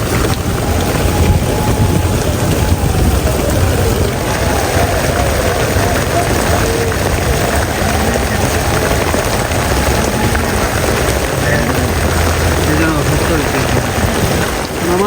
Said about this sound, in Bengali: বৃষ্টি বাড়লো